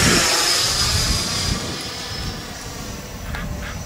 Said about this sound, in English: This plane is heavy, but it does not fly like it at all.